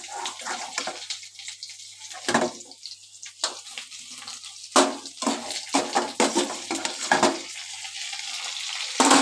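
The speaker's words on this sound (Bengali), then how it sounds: "এবার সব একসঙ্গে ভেজে নিচ্ছি" Boiled bottle gourd peels in a wok over heat, with intermittent sizzling and sharp scraping, clattering stirs against the pan, close and irregular, without talk.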